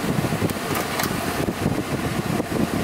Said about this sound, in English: AC blows. Does not blow ice cold.